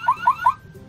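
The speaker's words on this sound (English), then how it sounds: "it sounds like your car is beeping" Three quick, evenly spaced electronic beeps from a toy car key on a Disney Princess toy purse set, close and clear, followed by a faint hum.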